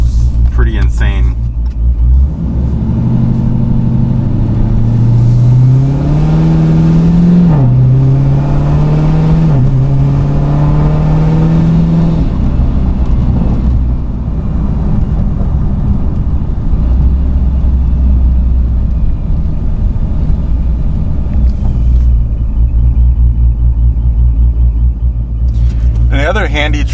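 A car with a 426 HEMI engine drones at a deep, loud, steady idle and rises through a few revs early on, with the rumble continuing throughout.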